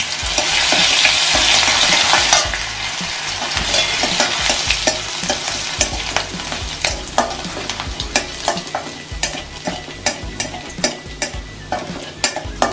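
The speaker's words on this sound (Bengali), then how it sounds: "এবার দিয়ে দেবো রসুন বাটা।" Garlic paste hits hot oil with cloves and cardamom in a loud burst of sizzling, then a spoon scrapes and stirs the pan in rapid rhythmic strokes over a softer fry.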